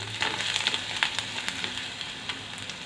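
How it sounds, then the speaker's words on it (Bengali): Grated ginger frying in a pan, a close, steady sizzle broken by light scraping taps of a spatula stirring it, with no talking. "আদাটাকে একটু নেড়ে নিই"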